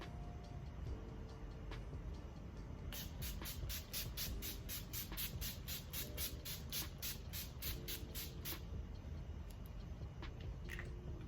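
NYX Dewy Finish setting spray hisses out in a rapid series of short spritzes, about a dozen in a row, quiet and close over a low background hum.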